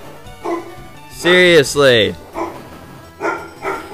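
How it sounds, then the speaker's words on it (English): A pet dog barks indoors in a few sharp, loud yelps close by, mixed with a person talking over it during a Pokemon Leaf Green gaming session. "I need to get my dog to stop barking."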